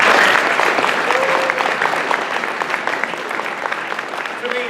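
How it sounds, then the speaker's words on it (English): Audience applause in school bleachers at a poetry recitation event, steady dense clapping that slowly thins, with a few voices and a brief whistle-like tone mixed in. "you deserve a round of applause for that"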